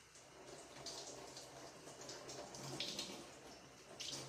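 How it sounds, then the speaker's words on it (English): Tap water runs steadily over tofu being rinsed, a quiet continuous flow with small splashes and hisses as it hits the block. "I'm gonna rinse off my tofu"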